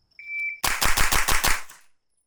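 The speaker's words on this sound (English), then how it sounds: "you can see I'm ripping this JP-5 about as quickly as I possibly can." JP-5 rifle with a HUXWRX Flow 9K Ti suppressor firing a fast string of about eight muffled shots in quick succession, close and loud, after a brief electronic beep.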